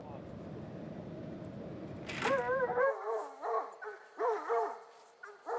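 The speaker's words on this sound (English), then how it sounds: "Dogs are starting to go nuts." Hunting dogs on a fresh cat track bark excitedly, a rapid series of close, loud barks and yips that begins after a stretch of steady background rumble.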